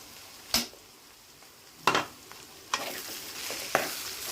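A spoon scrapes around a pan in a few separate, sharp bursts while cooked rice is mixed with paruppu podi, with quiet gaps between the strokes.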